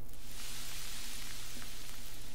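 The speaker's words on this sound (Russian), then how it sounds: "Готовим зайца." A hare cooks over a fire in The Long Dark survival game, giving a steady, even sizzle with a soft frying hiss that holds unbroken and alone throughout.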